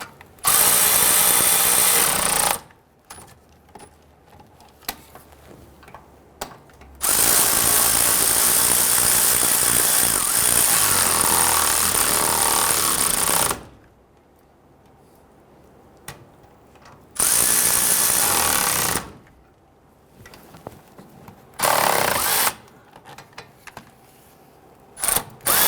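An impact wrench or power ratchet tightens bolts in a crisscross pattern to draw a wheel bearing into the knuckle of a 2011-2017 Nissan Quest rear hub, in loud whirring bursts of several seconds each, separated by quieter gaps.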